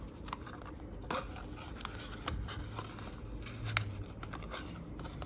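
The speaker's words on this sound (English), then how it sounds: "And now I'm going to fold this flap back, fold this part in." A paper net is folded and creased into a shape: soft papery crinkles and small sharp taps come in irregular bursts at close range, fairly quiet over a faint hiss, with no talk.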